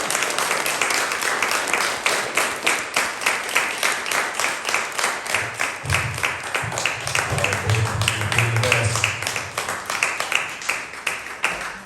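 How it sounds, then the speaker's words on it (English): Audience clapping with a loose, rhythmic beat at an artist-in-residence church concert at First Lutheran in Venice, steady throughout with some voices underneath. "Can we clap now and then we'll clap again?"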